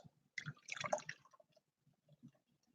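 Non-alcoholic stout poured fast from a can into a glass: a faint, brief splashing gush of liquid lasting about a second, then a few soft drips and clinks in otherwise quiet surroundings.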